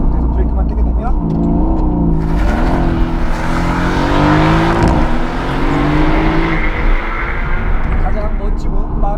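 A Porsche 911 GT3 sports car held in launch control mode at about 3500 rpm, its engine revving and droning loudly with rising, shifting pitch while someone talks over it.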